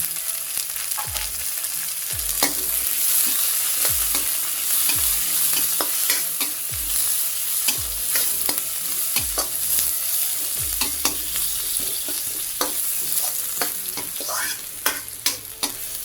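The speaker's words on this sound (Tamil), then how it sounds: "வெங்காயம் வதங்கிட்டோம். வெங்காயம் வதங்கிருச்சு." Onions sauté with curry leaves in a pan for chicken kuzhambu, a steady close sizzle punctuated by repeated scraping strokes of a stirring spoon against the pan, with no talking.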